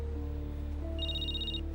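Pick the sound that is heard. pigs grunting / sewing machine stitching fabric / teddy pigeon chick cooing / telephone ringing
telephone ringing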